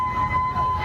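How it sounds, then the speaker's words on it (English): A steady tsunami warning siren wails continuously over a low rumble of background noise, holding a single pitch for the whole moment, sounding at night on the California coast after an earthquake. "Sirens going off"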